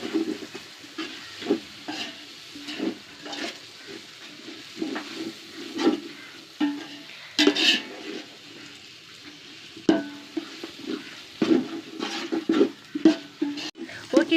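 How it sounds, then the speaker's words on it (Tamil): Coriander, mint and green chili sautéing in a pan for beef biryani, with intermittent stirring scrapes and low frying sizzle. Speech is heard over the cooking. "மல்லி, புதினா, பச்சை மிளகாய் இதோட பச்சை ஸ்மெல் போகிற அளவுக்கு ஒரு 5 நிமிஷம் நல்லா வதக்கணும்"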